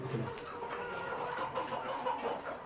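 Several free-range village chickens cluck and murmur nearby, overlapping soft calls in a continuous barnyard chorus with no talking.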